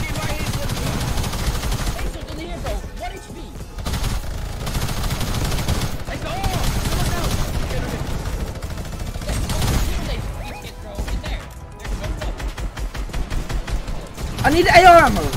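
Rapid bursts of assault rifle fire in a Fortnite match come in repeated volleys separated by short pauses, with an excited player shouting over the shooting.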